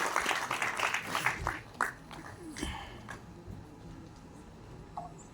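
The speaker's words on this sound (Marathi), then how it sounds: "जोरदार टाळ्या केदार शिंदे यांच्यासाठी." At a Marathi film trailer launch, a burst of crowd applause fills the first couple of seconds, then thins into scattered claps that fade away.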